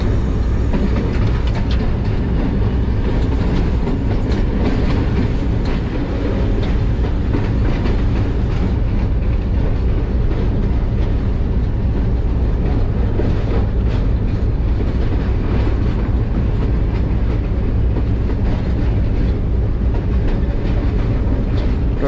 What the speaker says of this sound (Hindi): डाउन हज़ारा एक्सप्रेस को 4 नंबर प्लेटफॉर्म पे लिया जा रहा है